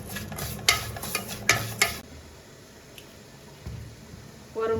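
Bitter gourd being lightly stir-fried in a pan, with a few sharp spatula scrapes and stirring clatter early on, then a quiet low sizzle and a brief louder stir near the end.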